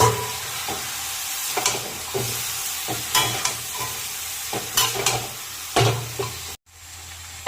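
Chicken chow mein noodles are stir-fried in a pan, a constant sizzle broken by rhythmic scraping and tossing strokes and sharp spatula knocks, close by with no talk.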